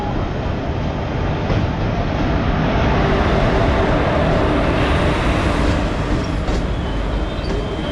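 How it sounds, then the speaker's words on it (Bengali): Steady, loud rumble of the 13113 Hazarduari Express arriving at platform one in Kolkata, a continuous low roar with faint rail clatter throughout. "দুয়ারি এক্সপ্রেস এক নম্বর প্ল্যাটফর্মে আসছে"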